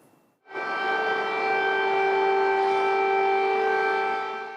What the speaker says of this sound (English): As the sirens blare